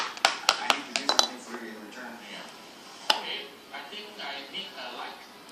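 Sticky Milo slime is kneaded by hand, giving a run of close, wet clicks and tacky pops, with a voice talking over it.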